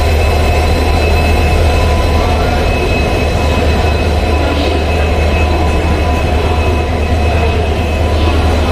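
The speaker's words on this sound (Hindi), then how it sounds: "मेन ट्रेन है जो आई है ये है रानीखेत एक्सप्रेस ट्रेन" The Ranikhet Express train rolling into a station near Moradabad, a loud, continuous low rumble of a heavy engine and rail cars without let-up.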